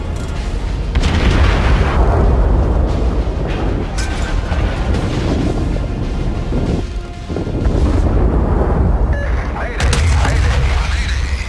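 Heavy naval gun fire from a warship in World of Warships, deep booming blasts and rumbling roar over constant wind-like sea noise, loud and close, with a brief lull midway.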